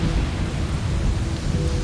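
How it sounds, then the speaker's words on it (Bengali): Heavy rain pours in a dense, steady roar with a deep low rumble of thunder underneath, a brief continuous burst of stormy weather with no voices. "ঝড় বৃষ্টির দাপটে কিছুই চোখে পড়ছিল না ভালো করে।"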